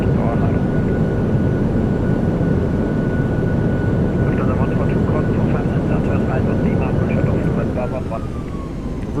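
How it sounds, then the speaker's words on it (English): A PMDG 737-800 lands in Microsoft Flight Simulator with thrust reversers deployed, producing a loud continuous engine roar with a steady whine and no letup. A voice talks over it. "Goes down gently, reversers are out."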